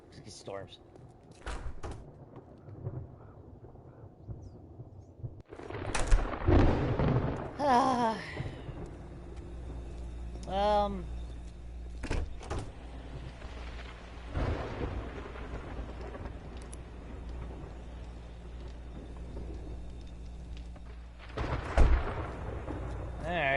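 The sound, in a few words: thunderstorm in the video game 7 Days to Die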